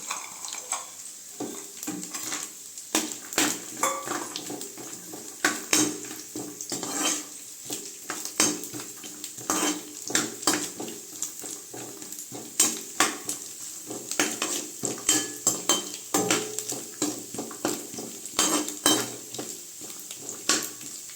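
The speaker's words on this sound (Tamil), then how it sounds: "இப்போ ஒரு 2 நிமிஷம் இது வறுபட்டோன்னா இது கூட முந்திரி சேர்த்துக்கலாம்." Cashews roasting in a pan for a Tamil moong dal payasam, with a spoon scraping and clinking against the metal in a steady irregular rhythm over a faint sizzle, close up and with no talking.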